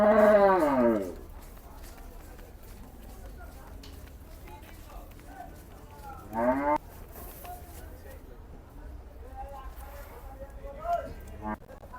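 A water buffalo at a busy cattle market lets out a loud moo at the start, then a second moo midway and a shorter call near the end, all over steady crowd chatter.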